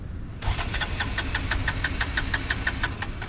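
A motorcycle that has just fallen over cranks but fails to start, a steady rapid starter whirr repeating close up over a low rumbling background.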